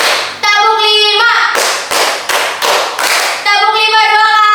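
A group of students claps a quick counted rhythm: a few sharp claps, a burst of five loud hand claps close together, between stretches of a voice calling out over them.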